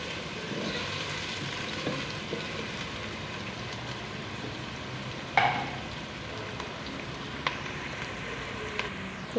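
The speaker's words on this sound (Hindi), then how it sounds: "यहाँ पे प्याज को हम नरम कर लेंगे" Chopped onions softening in a hot pan for Shinwari keema, giving a steady low sizzle and crackle with occasional sharp clinks of a utensil against the pan.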